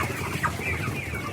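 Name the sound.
chicken clucking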